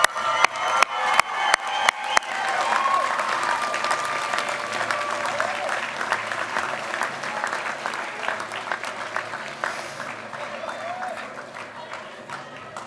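A college commencement audience breaks into sustained applause for graduates' loved ones, opening with a few sharp separate claps before swelling into a broad, steady wash of clapping from a large crowd.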